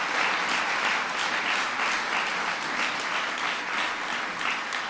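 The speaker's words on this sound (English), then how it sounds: "You can give her a round of applause." A large audience gives a dense, sustained round of applause at a presidential event on the Precision Medicine Initiative. The clapping stays loud and even throughout.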